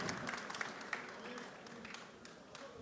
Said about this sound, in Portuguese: Aqui eu peço uma salva de palmas para ele